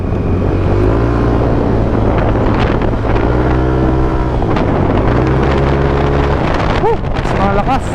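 A Yamaha NMAX V1 scooter engine freshly serviced with a basic CVT cleaning revs hard, its droning tone climbing and falling in sweeps with heavy wind rumble, then quick sharp blips near the end.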